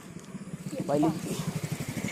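A vehicle engine labours on an uphill climb, its low throbbing pulses steady and close, with a brief voice heard over it partway through.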